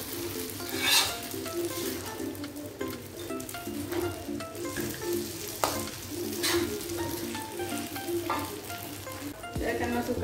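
Egg frying and being stirred in a wok for kwetiau goreng, a steady close sizzle with repeated scraping and clatter of the spatula against the metal throughout.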